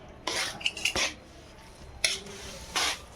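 A spoon works a thick urad flour mixture for adadiya in a pan over a low gas flame, making four or five short, close scraping strokes with quiet gaps between them.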